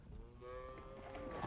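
Healthy cattle gathered for a sulfur dip give a single low, drawn-out moo that rises and holds, fairly close and clear over a soft outdoor background.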